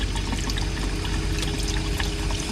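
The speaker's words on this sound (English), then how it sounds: "I'm going to turn on the cold water. Pump kicks on." Cold water gushes from a tap inside a skoolie bus conversion as the water pump runs, a steady close rush of flow with a low mechanical hum underneath.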